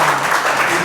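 A class of students claps together in a dense, steady burst of applause that lasts under a second, with no speech over it.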